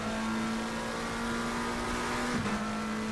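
Race car engine droning steadily at Monza in a console endurance racing game, a sustained near tone with a brief pitch dip as a car passes, no voices.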